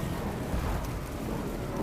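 Steady rain and low rumbling thunder as an ambient sound effect in a fantasy audiobook about soldiers with pikes and arquebuses, a continuous, even wash of noise with no voice over it.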